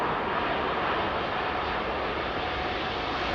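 Airliner on final approach to land at London Heathrow, a steady rushing jet engine roar at moderate distance, even in loudness and free of voices.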